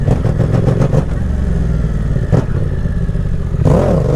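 A Yamaha Tracer motorcycle engine revs hard and accelerates for a wheelie, a loud close roar with rapid pulsing at first, a brief sharp burst midway and a rising rev near the end.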